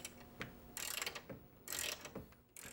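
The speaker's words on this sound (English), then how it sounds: "now that we've gone and tightened up our M6 bolt" A hand ratchet tightens an M6 bolt on a Trektop for a two-door Bronco, making a few brief, soft raspy clicking strokes close by with small gaps between them.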